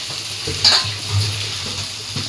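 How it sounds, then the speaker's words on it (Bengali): Garlic and ginger sizzling in oil in a pan, a continuous near crackle broken by a few soft stirring bumps, with no one speaking. "ভাজা ভাজা করে নেবো যাতে রসুনের গন্ধটা চলে যায়"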